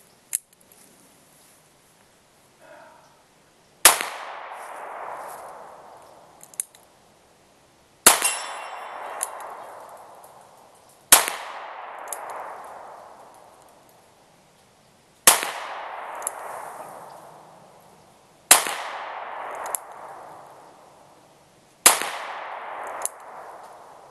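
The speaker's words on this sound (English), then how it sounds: "now I'm firing what this revolver was actually designed to fire" A Taurus 617 revolver fires .38 Colt black powder rounds, seven loud sharp reports spaced a few seconds apart, each with a ringing, decaying tail.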